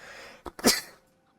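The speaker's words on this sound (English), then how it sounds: "I sneezed." A character in Animal Crossing: New Leaf sneezes, a short, close, breathy burst with a quick intake just before it, then quiet.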